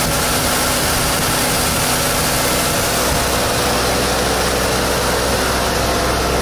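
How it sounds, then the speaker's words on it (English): A 1983 Zimmer Golden Spirit's engine idles steadily and loudly close by, a constant rumbling hum with no speech. "Engine sounds as it should"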